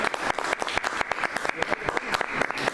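A small audience claps to welcome a speaker before a talk, with many quick hand claps at a fairly even, moderate pace close to the recorder and no talking over them.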